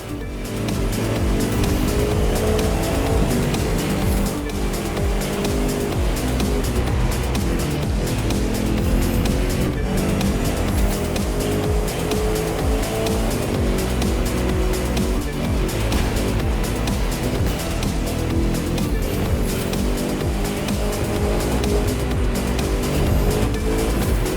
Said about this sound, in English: Those engines are gonna make for a loud wake-up call if anyone's sleeping in this resort area today.